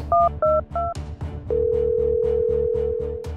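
Three short dial-pad beeps, then a long continuous ringback tone, heard over a steady rhythmic pulsing background; clear and close.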